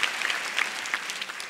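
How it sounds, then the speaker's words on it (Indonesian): A stand-up comedy audience claps briefly, a soft, fairly distant scatter of hands over about a second and a half. "Tepuk tangan dulu dong"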